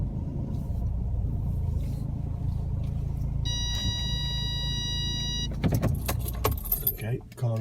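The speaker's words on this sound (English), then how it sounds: "car always bleeps when we park up." A parked car gives a steady electronic warning tone for about two seconds over low engine rumble, followed by jangling keys and clicks as it is switched off; brief talk is mixed in.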